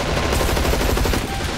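Continuous fully automatic fire from an M249 machine gun in the shooter game ZMR, a dense, rapid, loud stream of shots.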